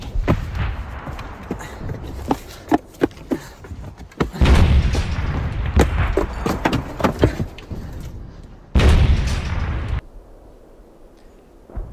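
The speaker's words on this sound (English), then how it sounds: "Artillery!" Heavy World War I artillery fire on the battlefield, a dense barrage of booming blasts and sharp reports, with two sustained loud roaring bursts standing out near and loud, then a quieter tail.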